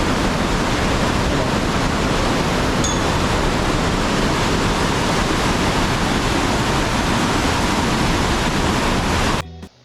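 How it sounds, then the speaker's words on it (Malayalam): Forceful water rushing at Athirapilly waterfall, a loud, dense, unbroken roar close by that cuts off abruptly at the end. "നല്ല ഫോഴ്സിലെ വെള്ളം പാസ് ചെയ്യുന്നത് കണ്ടോ."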